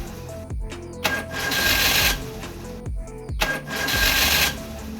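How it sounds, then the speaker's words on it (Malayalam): A Maruti 800 with an electrical fault has its starter motor cranking in two long bursts, whirring and grinding loudly, while the engine fails to catch. "വാഹനം സ്റ്റാർട്ട് ചെയ്യുന്നില്ല, സെൽഫ് അടിക്കുന്നുണ്ട്, പക്ഷേ വാഹനം സ്റ്റാർട്ട് ആവുന്നില്ല."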